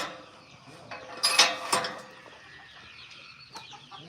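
A few chickens cluck and squawk nearby in short bursts, with a louder flurry early on, then quieter scattered sounds.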